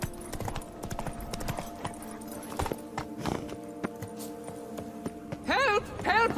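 Roach, the horse in The Witcher 3 video game, gallops with steady clip-clop hoofbeats among game sound effects, and a short whinny comes near the end.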